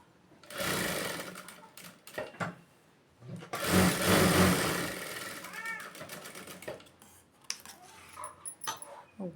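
Short bursts of a sewing machine stitching along the lining edge of a blouse, with pauses and fabric handling between runs and faint background noises.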